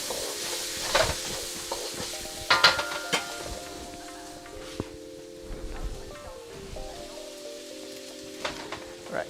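Bacon sizzles steadily in a Sichuan wok over medium heat, a dense crackle with scattered sharp pops and occasional stirring clatter throughout, no one speaking.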